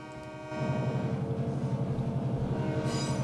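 A train with lumber cars at Borgia pulls forward: a steady pulsing diesel rumble kicks in and holds, with a brief high tone rising at the very end.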